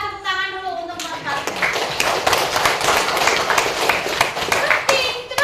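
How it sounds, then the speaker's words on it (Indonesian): Students in a classroom clap together after a maths lesson on multiplication, dense steady applause from many hands that starts abruptly and carries on for several seconds, with children's voices mixed in. "Tepuk tangan dulu untuk mereka."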